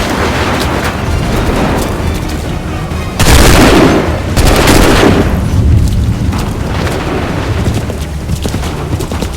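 Musket volleys from massed soldiers in a battle in Assassin's Creed III, heavy booming reports rolling out in repeated waves over a dense, continuous din of combat, loud and close throughout.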